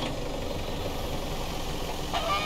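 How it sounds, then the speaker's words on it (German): A car engine idles steadily in the survival game Mist Survival, a low continuous rumble with a faint rattling texture that stays even throughout without any talk. "Motor starten."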